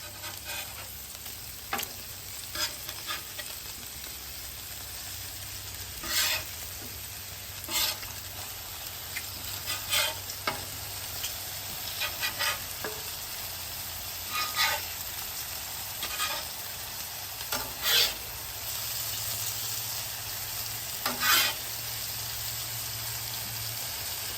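Bacon and sausage sizzle on a Weber Slate griddle with a continuous, even crackle, broken by sharp spatula scrapes and clicks at irregular intervals. No voices are heard.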